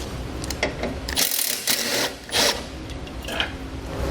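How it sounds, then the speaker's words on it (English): A ratchet clicks in quick bursts as a 12mm bolt is loosened and removed while a tow base plate is being fitted to a vehicle, with brief pauses between runs of clicks. "Now I'm going to do that by removing this bolt here, which is a 12mm."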